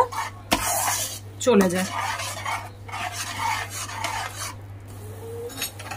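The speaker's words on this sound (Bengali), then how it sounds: "দিয়ে আবার এটাকে একটু নাড়তে থাকবো 2-4 মিনিট" Masala cooked with yogurt and cashew paste for malai kofta, stirred in a pan with scraping spoon strokes and a soft sizzle, close, as a voice speaks over it.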